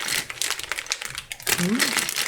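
Crinkling of a plastic parts bag from a LEGO Technic 42176 Porsche GT4 set being handled close by, a few rustling bursts with a brief voice partway through.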